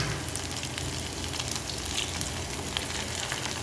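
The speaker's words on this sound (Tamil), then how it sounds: "செம்மையாக இருக்குது, நல்லா ஃப்ரை ஆகிடுச்சு" Cauliflower 65 deep frying in hot oil, Tamil Nadu style, gives a dense, steady sizzle that crackles without a break from start to finish, close and fairly loud with no one talking.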